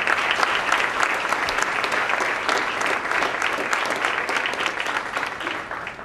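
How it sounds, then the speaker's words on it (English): Dense, steady applause from a large audience at a high school senior athlete dinner, loud and sustained with no pause throughout. "you should give yourselves a round of applause."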